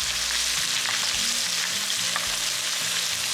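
Close, steady sizzle of wagyu steak pan-searing while butter with garlic is spooned over it, with occasional light scrapes and clinks of the spoon against the pan over several seconds.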